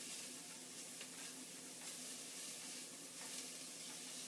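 Garlic sizzles steadily in a hot pan as it is stirred constantly, a soft continuous frying hiss with faint scraping, quiet and alone without any voices.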